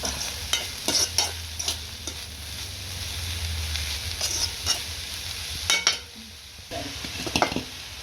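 Onions and seafood-meal ingredients frying in a pan, stirred with a spoon: scattered clinks and scrapes over a soft continuous sizzle, close and moderately loud.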